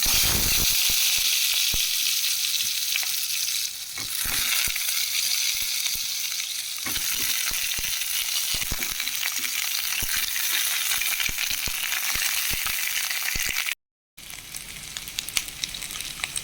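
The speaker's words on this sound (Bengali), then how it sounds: "কড়াইতে তেল গরম হয়ে গেছে, এখন আমি পটলগুলো ভেজে নেব।" Pointed gourd pieces frying in hot oil in a wok, a steady loud sizzle and crackle running throughout with brief stirring scrapes, a short dropout near the end, no voices.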